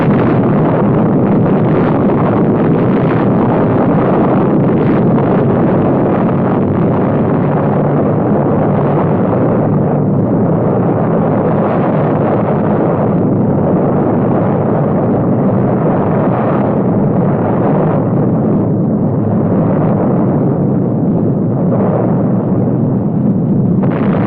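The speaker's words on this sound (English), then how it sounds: "At 5:30 a.m. on July 16, 1945, Tall Man was detonated." Trinity plutonium bomb explosion, July 1945: a loud, sustained roaring rumble fills about 24 seconds without pause, swelling and easing slightly, with no voices.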